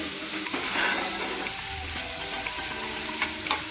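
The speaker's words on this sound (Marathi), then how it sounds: "तेल छान तापले की 2 मिडियम साईजचे कांदे बारीक चिरून घ्यायचे. ते तेलात फ्राय करून घ्यायचे आहेत आपल्याला." Finely chopped onions frying in hot oil on a tava, a steady dense hiss and crackle close up with a few faint clinks, continuous with no voices.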